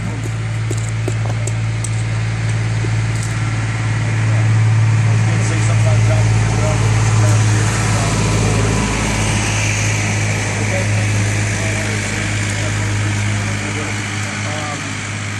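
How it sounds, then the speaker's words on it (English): A steady low tractor engine rumble drones throughout as it approaches, loud and continuous, with faint background voices. "We've got a tractor coming, so we're not going to compete with that."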